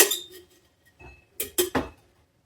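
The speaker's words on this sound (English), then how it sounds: "Might as well put the rest of the ice in there." Ice cubes drop into a glass for a cocktail, several bright clinks and rattles close by, a first tumble, a pause, then three quick clattering knocks in a row.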